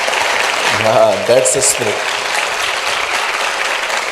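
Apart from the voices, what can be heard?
congregation clapping for Jesus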